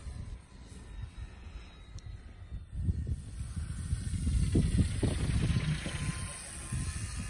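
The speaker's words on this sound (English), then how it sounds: "It's like a bit of a harsh noise from the engine. There's something rubbing against the cowl or something." A harsh, rubbing drone comes from the engine of a Robin EPP C30 model autogyro. The noise is a steady, hissing whir that swells louder partway through and stays fairly close throughout.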